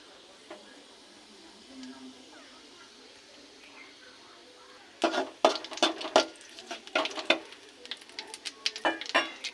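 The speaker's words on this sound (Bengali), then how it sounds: "তেল দিয়ে দিয়েছি, এবার দিয়ে দেবো কালো জিরে ফোড়ন" Nigella seeds go into hot oil for a tilapia fish curry, first a faint low hiss, then a sudden burst of sharp, irregular crackling and spattering up close that keeps popping to the end.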